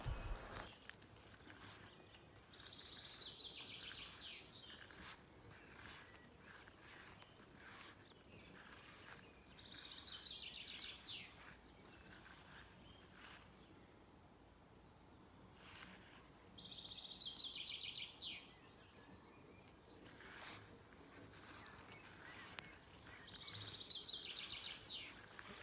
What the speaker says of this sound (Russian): И птичек слушать.